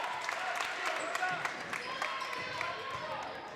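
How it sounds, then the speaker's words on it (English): A basketball crowd at a girls' high school game cheers and claps in a gym, with the ball bouncing on the court and a commentator talking over the steady noise. "This crowd slowly starting to come to life."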